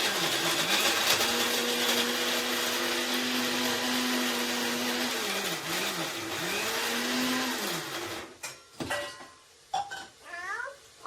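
An electric mixer grinder runs loudly as it grinds ginger and garlic paste, its motor pitch rising and falling repeatedly before it stops; brief knocks and a short voice follow at the end.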